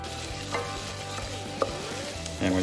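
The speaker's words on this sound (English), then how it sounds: "That's the flour cooking out." Flour cooks out in a pan for lobster thermidor, a soft low sizzle under scraping strokes of a spoon or spatula, with a couple of sharper knocks against the pan.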